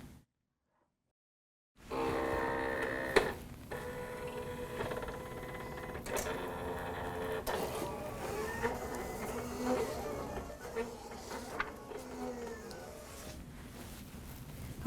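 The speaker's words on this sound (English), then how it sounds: "I'm ready to send this to the machine and let it cut" A Silhouette cutting machine drives a ratchet blade through a custom apparel design, giving a steady close whirring buzz with small clicks and motor shifts after a brief silent start, no one talking.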